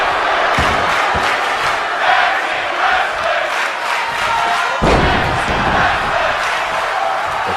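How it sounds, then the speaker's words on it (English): A wrestling crowd chants in loud, rhythmic waves, with a few heavy thumps cutting through the roar. "Crowd chanting for time stream"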